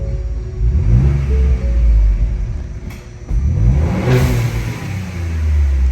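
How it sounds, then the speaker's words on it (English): A 2017 Ford Fusion Sport fitted with a blow off valve adapter starts up and revs, giving a deep rumbling engine note that swells in several rev bursts with a brief dip in between, close and steady. "So this is the car being turned on. We're gonna see how it sounds."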